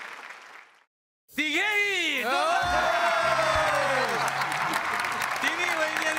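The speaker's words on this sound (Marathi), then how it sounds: "त्या विशिष्ट पद्धतीसाठी पण एकदा जोरदार टाळ्या झाला पाहिजेत" Loud audience applause mixed with cheering erupts after a brief silence on a Marathi TV comedy-show stage as winning couples are announced, a voice talking over the continuous dense clatter.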